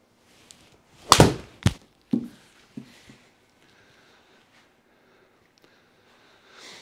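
A golf ball struck with a 9-iron into a simulator screen: one sharp, loud club-on-ball thwack followed by a quick second impact and a few softer thuds, then near silence indoors.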